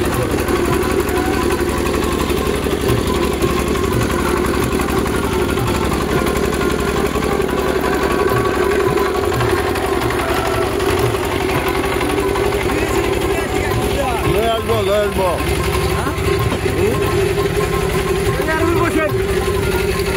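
A small engine drives a water pump in rural Bangladesh with a steady, close, throbbing hum throughout. Someone talks over the running motor.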